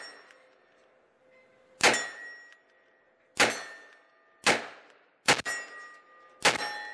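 Five loud gunshots ring off a steel target at an outdoor range, each sharp crack followed by a lingering metallic ring, spaced irregularly about a second apart with a quick double near the end.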